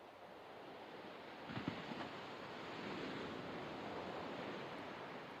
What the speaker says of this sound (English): We're okay with these waves, we're okay with the beach.